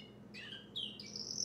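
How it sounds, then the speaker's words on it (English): A small bird sings a few quick high chirps and rising whistled notes over a steady low background hum, fairly close and clear. "this little bird is gonna, of course, sing while I am doing this"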